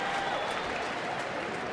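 A baseball stadium crowd applauds and cheers in a steady, diffuse roar during an at-bat in a Kansas City at Minnesota game.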